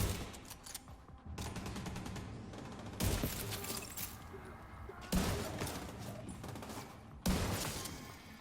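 Gunfire in the shooter video game The Division 2, a string of sharp, loud shots and bursts in separate clusters a couple of seconds apart, each cracking out and then trailing into a softer rattle, with no voices.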